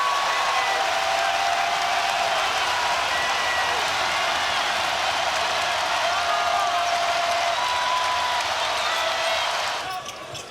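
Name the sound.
basketball crowd cheering after dunk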